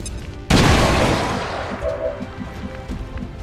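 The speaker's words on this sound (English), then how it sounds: "Frag grenade." A frag grenade detonates in the video game XCOM 2 with a sudden loud blast, followed by a long fading rumble and debris as scattered game effects tick beneath it.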